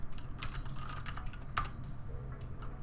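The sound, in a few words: typing on a computer keyboard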